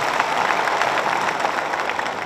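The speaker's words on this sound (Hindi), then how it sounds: "हम ताली बजा के जोर से स्वागत करते हैं" An audience at a party workers' convention in Delhi's Talkatora Stadium applauding to welcome senior advocate H.S. Phoolka, a dense, continuous wash of clapping from a large crowd throughout.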